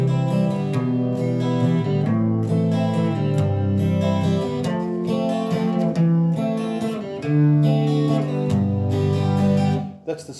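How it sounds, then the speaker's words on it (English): A piano song arranged for acoustic guitar and strummed steadily, with full chords ringing at a close, even level throughout before fading at the end. "That's the strumming variation of it."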